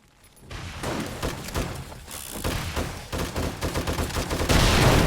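Rapid, continuous automatic fire from defensive turrets during a horde night in 7 Days to Die, dense and loud throughout with bursts stacking and intensifying toward the end, no voices present.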